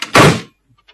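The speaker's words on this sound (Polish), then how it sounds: "Zatrzaśnij dobrze drzwi." An elevator door slams shut with a single loud, close thunk, then fades into near silence with a couple of faint small knocks.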